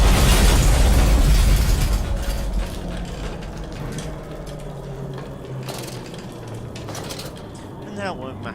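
A giant explosion in the horror game Amnesia: A Machine for Pigs booms loud and low at the start, then rumbles and fades into mechanical clanking and ambience.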